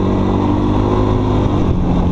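An engine runs at full throttle, giving a loud, steady, droning roar that holds without a break and has no speech over it.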